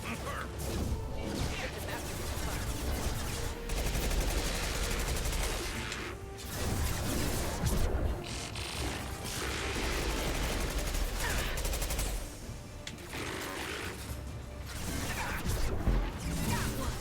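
Mass Effect 2 combat, with sustained bursts of automatic gunfire, crashes and impacts rattling on for many seconds, dense and loud with brief pauses, while a voice talks intermittently over the action.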